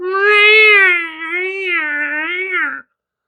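A human voice imitates cats mating: one drawn-out, wavering, nasal yowl lasting close to three seconds, loud and close, then silence.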